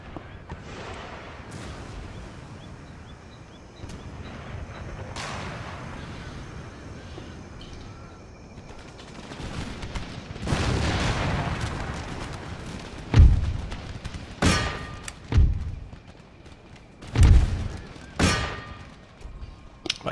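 Artillery fire on an Empire Total War battlefield: distant rumbling and scattered shots early on, then several sharp, loud cannon blasts with metallic clangs punctuating the second half at irregular intervals.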